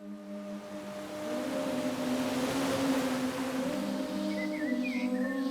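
Warm outdoor ambience in Costa Rica: a steady broadband wash under a low, droning hum, with a few faint bird-like chirps surfacing near the end and no voices.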